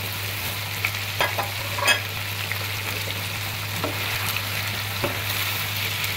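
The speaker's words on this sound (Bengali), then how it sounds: "এখন এই পেঁয়াজটা দিয়ে দিলাম, গাজরটা দিয়ে দিলাম, ক্যাপসিকামটা দিয়ে দিলাম।" Onion, carrot and capsicum stir-fry for chicken chowmein with a constant loud sizzle, a low steady hum beneath it and a few sharp spatula scrapes and clinks spread throughout.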